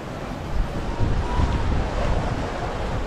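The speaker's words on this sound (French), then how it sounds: "là ça donne bien une idée quand même de la puissance des vagues de temps en temps" Sea waves surge and wind buffets a sailboat running fast downwind in rough water on the way back from a race weekend, with steady roaring noise and a heavier wash building in the middle.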